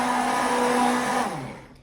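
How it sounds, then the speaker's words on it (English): Immersion blender whirring through a batch of homemade lotion, a steady close motorized hum that holds for over a second, then slows and winds down as it is switched off. "now I take my immersable blender."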